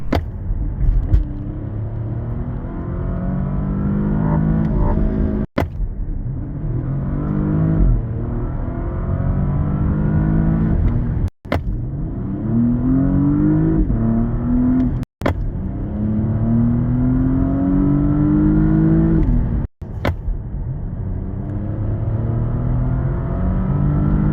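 A 2023 Porsche Panamera hybrid engine roars steadily as it accelerates hard, pitch climbing in repeated sweeps, with brief sharp clicks between gear changes.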